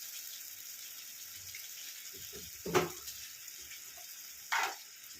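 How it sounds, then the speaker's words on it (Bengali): A little water splashes onto dry ground spices in a hot pan for katla fish malaikari, giving two short hissing gushes over an otherwise quiet background. "এর মধ্যে এবার একটু শুকনো মশলা দিয়ে দেবো, একটু জল দিই।"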